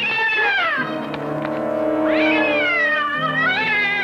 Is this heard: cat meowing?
yes